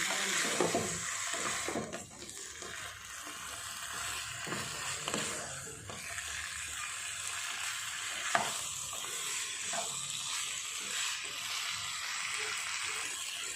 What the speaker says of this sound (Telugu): ఇలా మాంసం వేసుకున్న తర్వాత బాగా కలుపుకోవాలి